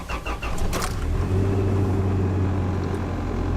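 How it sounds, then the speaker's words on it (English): A Toyota engine, just fitted with a freshly repaired cylinder head, cranks briefly and catches on the first key turn, then settles into a steady, close idle hum with no talking. "It's finally the first key turn with our fresh head."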